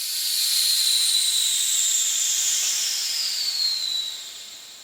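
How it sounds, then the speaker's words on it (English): Loud, sustained high-pitched hiss of steam venting from a pressure canner holding chicken, holding steady for several seconds before tapering off. "flip this switch up and let the rest of the steam come out"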